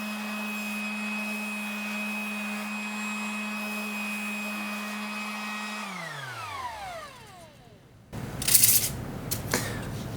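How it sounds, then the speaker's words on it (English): A steady machine hum runs while wooden lawn dice are sanded, then the motor winds down and stops, followed by a few brief scratchy rubbing sounds. "I'm going to sand them all down"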